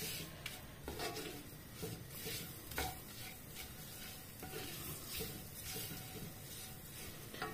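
Onions sizzle softly in a pan while a utensil stirs and scrapes now and then, a quiet, steady frying hiss with light clinks, no talking over it.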